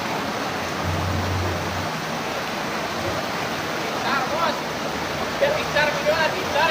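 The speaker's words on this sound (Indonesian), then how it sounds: "Arus deras, kawan-kawan." Strong current of floodwater rushing past homes during flooding in Bandung, a dense continuous roar of water close by, with a voice talking over it toward the end.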